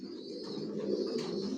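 Racer pigeons in a loft coo in a steady, overlapping low murmur that holds close and moderately loud from start to end, with no talk over it.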